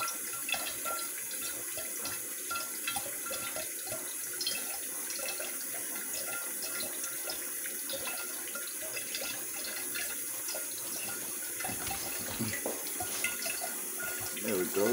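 Ionized water running from a Leveluck Kangen water machine: a continuous close splashing flow, like a running tap into a container, steady throughout, with faint background voices.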